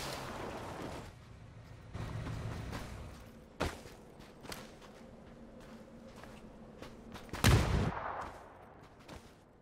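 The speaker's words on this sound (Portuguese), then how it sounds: "Morri pra granada" Gunfire and a grenade blast in PUBG: scattered sharp shots and distant pops ring out at moderate to faint level, then one louder, heavier detonation lands near the end, with no speech.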